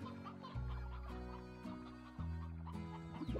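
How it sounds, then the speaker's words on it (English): Chickens cluck in the Slime Rancher video game while being sucked up, short bursts over a steady droning game soundtrack with stepped music changes, no talking. "Sucking up the chickens."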